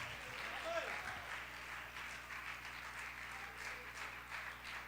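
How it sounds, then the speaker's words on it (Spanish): Applause from a church congregation after a sermon, a steady, moderate wash of clapping that holds evenly throughout, with some voices mixed in. "Denle un aplauso a ese que está aquí"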